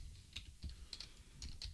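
Keys clack on a computer keyboard in a quick, uneven run of close, soft taps while a web address is entered, with no one talking.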